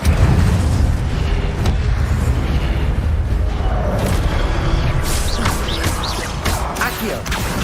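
Incendio fire spell cast in Hogwarts Legacy: a loud, deep whooshing burst of flame with booming rumble and crackling pops, rolling on continuously with sharper bursts toward the end.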